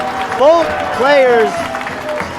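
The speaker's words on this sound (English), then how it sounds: "The crowd is loving it, loving it." A crowd applauds and cheers at a racquetball match, Rocky Carson versus Andree Parrilla in a quarterfinal, the roar sustained under an excited commentator's voice.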